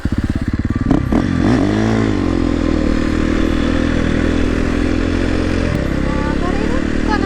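A newly delivered motorcycle idles and then pulls away on a ride toward the mountains, its engine throbbing loud and close with a rising rev as it sets off, and a voice talks over it.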